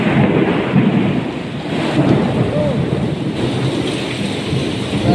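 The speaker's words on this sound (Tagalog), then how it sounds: "sobrang lakas ng ulan" Heavy rain pours down in a thunderstorm in Jeddah, a dense steady hiss with deep rolling thunder rumbling underneath, loud and close throughout.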